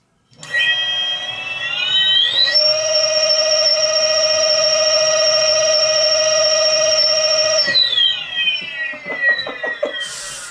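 A homemade electric mountain bike motor winds up to high RPM with a loud, steady whine that rises in pitch, holds for several seconds and then spins down.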